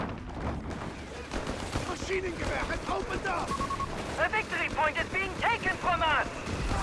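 Heavy machine gun fire rattles through a Company of Heroes 3 battle between Afrika Korps and US forces, dense bursts with chirping tonal effects over a constant roar, loud and continuous throughout.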